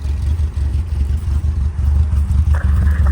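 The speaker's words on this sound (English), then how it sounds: "Main thing is the engine's running, and we'll let him warm up." A Ford 100E car engine idles close by while warming up after harsh cold weather, a low, steady, slightly uneven throb with light clatter, running alone without talk.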